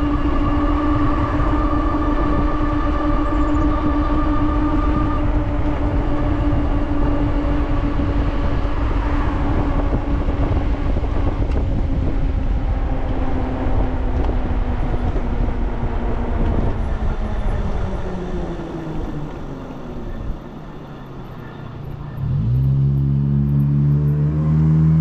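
Ariel Rider Grizzly dual-motor electric bike riding fast on its rear motor, with a loud steady motor whine and rushing wind that rises in pitch, then slows and picks up again near the end.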